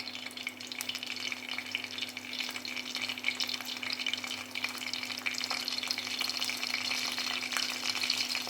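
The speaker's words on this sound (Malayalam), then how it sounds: "എണ്ണ നല്ലോണം ചൂടായിട്ടുണ്ട് അതിലേക്ക് നമുക്ക് കറിവേപ്പില ഇട്ട് കൊടുക്കാം" Curry leaves drop into well-heated oil and crackle into a loud, dense, continuous sizzle that carries on steadily without any talking.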